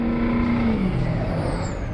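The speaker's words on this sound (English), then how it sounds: "That turbo whining." A truck's turbo whines loudly and close, a high sustained tone riding over the engine's dense rumble, with a gliding pitch that sweeps downward over about two seconds.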